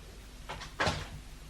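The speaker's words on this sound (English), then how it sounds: "Close the door." An office door swings shut in a police station, making a soft, brief thump followed by a short latch click, fairly faint against a quiet room.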